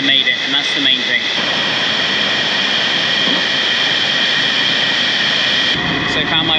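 Prey Lot Waterfall on Sumatra roars in a loud, continuous broadband rush of falling water, steady and close throughout, with a person speaking over it near the start.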